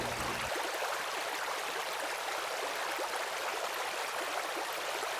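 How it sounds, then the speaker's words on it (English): Water slowly poured into a bag holding fish to acclimate them, a faint, steady trickling and splashing that continues without pause. "I'll just slowly add a little bit of water into the bag and acclimate them that way"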